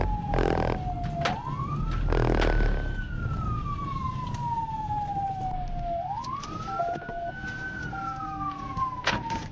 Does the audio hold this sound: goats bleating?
no